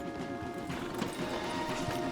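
Horses' hooves clip-clop in a quick, uneven patter on a trail in the video game Red Dead Redemption 2, faint and steady with a brief snort.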